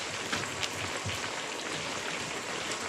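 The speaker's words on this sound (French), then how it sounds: "Ça peut durer, cette pluie-là." Heavy rain pours in a steady, dense wash of noise that holds constant throughout, with no pauses or talk.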